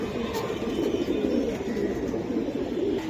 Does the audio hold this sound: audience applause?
no